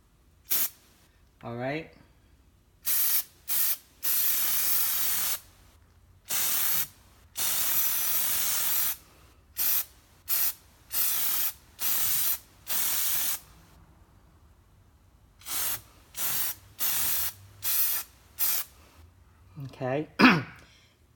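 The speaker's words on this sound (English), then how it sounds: "Let's do a test spray." Plasti Dip spray paint hissing from an aerosol can onto a Corvette front grille, a run of short and longer bursts with pauses between them, close and loud, with a brief spoken remark near the start.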